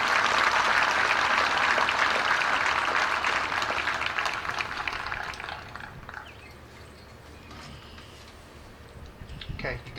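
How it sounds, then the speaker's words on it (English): Audience applause at a graduation ceremony, a crowd clapping loudly for several seconds before it thins and fades to sparse claps, with a voice briefly heard as it dies down. "So give her a round of applause for that as well"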